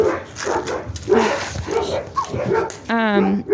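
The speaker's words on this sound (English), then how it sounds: "I feel like that's the neighbor's dog and they're missing their dog." A dog barks and whimpers amid a busy, noisy background with people talking, ending in a high, wavering whine.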